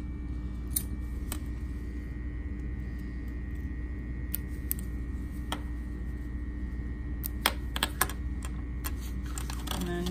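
Small scissors snip stray sewing threads on a freshly stitched fabric crossbody strap for a barrel bag, giving a scatter of sharp, quiet clicks and snips over steady low hum, close and faint, with no talking.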